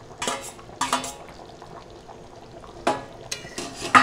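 Fried onions added and stirred into an egg curry with taro, with sharp metal spoon clinks and scrapes against the pan in a few separate bursts over quiet, low cooking noise.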